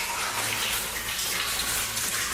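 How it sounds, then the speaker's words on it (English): Water falling inside an underground mine tunnel, a continuous splashing, gushing hiss that fills the space at moderate loudness. "There's water dripping, which drowns out the sound somewhat"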